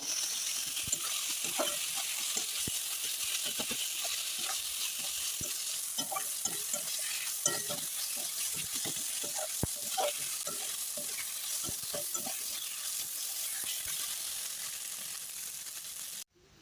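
Note shak greens sizzle steadily in a pan while being stirred, with a constant frying hiss and scattered scraping taps from the spoon throughout.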